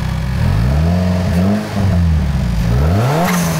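A turbocharged Zaporozhets car engine revs hard in repeated rising and falling sweeps, with a brief dip in the middle before climbing again, loud and close with no talk.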